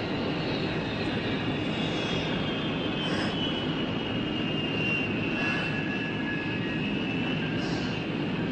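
An airplane taxis out toward the runway, its engine producing a steady, continuous broadband roar with a faint high whine. The sound stays constant and moderately loud throughout, with no voices.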